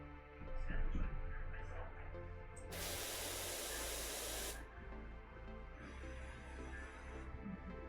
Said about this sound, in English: Wow, that spray is loud.